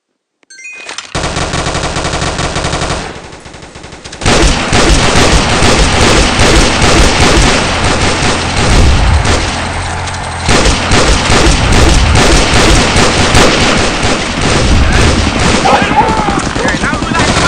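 Gunfire in a war video game, loud sustained bursts of rapid automatic shooting and booms layered over game music and effects, with a brief quieter stretch early on before the firing resumes densely.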